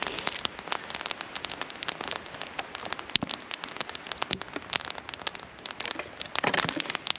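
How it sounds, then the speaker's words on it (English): A campfire in the woods at a trapper's camp, crackling and popping in dense irregular snaps over a soft background hiss, close by, with no speech. "Got the fire going pretty good there now."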